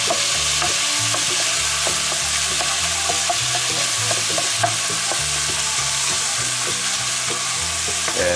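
Ground meat browns in a Dutch oven for a low-carb lasagna, a steady loud sizzle and frying hiss with repeated scraping and stirring knocks of a utensil against the pot, no talking.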